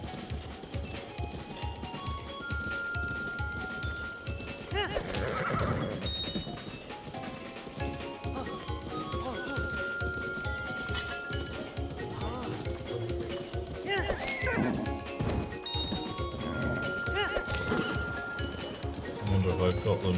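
In Zelda: Breath of the Wild, a ridden horse gallops in a quick, steady drum of hoofbeats, mixed with game effects and tonal chimes, moderately loud and continuous throughout.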